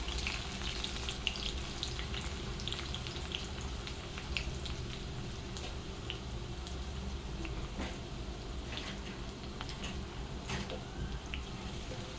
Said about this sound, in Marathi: तेल आपलं चांगलं गरम झालेलं आहे यामध्ये आता आपण कांदा घालून घेऊया कांदा आपल्याला सोनेरी कलर येईपर्यंत भाजून घ्यायचा आहे